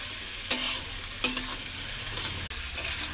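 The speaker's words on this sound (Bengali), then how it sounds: "ক্যাপসিকাম লঙ্কা সব দিয়ে দিলাম, দিয়ে ভাজা হচ্ছে" Capsicum and chillies frying in a pan, with a steady broadband sizzle broken by two sharp scraping stirs of a spatula near the start and a few softer stirs later, close and fairly loud with no talking.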